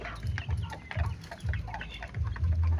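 Native Indonesian broiler chickens, a two-month-old Mardi x KUB cross, clucking in short repeated bursts close by, with no talk.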